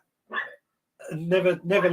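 A dog barks and growls from outside a door, a short yelp followed by a longer run of rough, near barking.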